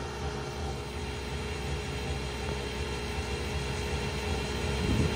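A line boring machine making a pass in a CAT 374 H excavator link, a steady, loud mechanical drone with a constant tonal hum and broadband grinding noise that swells slightly toward the end.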